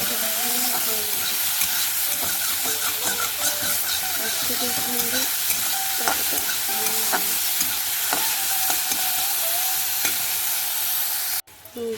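Onion frying in a pan gives a steady sizzle with stirring scrapes throughout, under intermittent talk, until it cuts off abruptly near the end.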